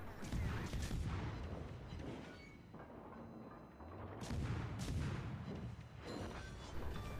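Booming naval gunfire and explosions in World of Warships, dense and continuous, with heavier blasts rolling in around the middle and end.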